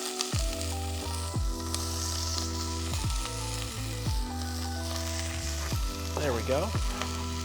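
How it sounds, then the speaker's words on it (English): Vegetables dropped into a pot of browned sausage for a ribollita sausage, bean and greens stew give a loud, steady sizzle, with sharp bursts as pieces land, over a musical background and a brief spoken remark. "We are going to add our vegetables to the pot."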